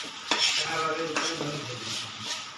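A utensil stirs idli and noodles in a pan with a few scraping clinks against the metal over a light sizzle, close and fairly quiet; no one speaks.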